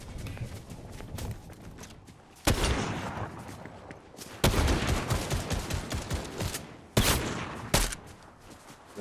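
Gunfire in an online multiplayer shooter game: sharp loud bursts of shots at intervals amid a busy in-game soundscape of footsteps and movement, with no talk over it.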